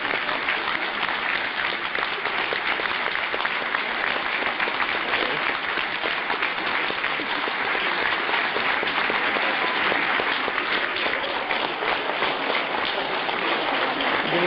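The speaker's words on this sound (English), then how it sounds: "I guess we should clap, right?" A crowd claps steadily and densely for the whole stretch, a continuous wash of hand claps at even loudness without pauses, at a handshaking event with Clinton.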